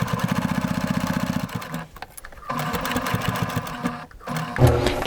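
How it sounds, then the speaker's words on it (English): A Baby Lock Accomplish sewing machine stitching thick fabric runs with a fast, steady mechanical chatter, then slows and stops, followed by handling noises and a brief restart, close and loud. "I'm going to stitch in from the top edge about 1/8 of an inch."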